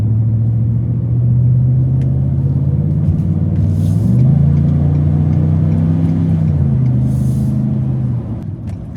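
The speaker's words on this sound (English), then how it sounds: "Truck's doing a great job downshifting here" Loud, close engine rumble from a Ford 7.3L gas pickup truck hauling a camper, its steady drone stepping up in pitch as it shifts down, with faint hissing bursts.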